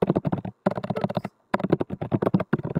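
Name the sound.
typing on a computer keyboard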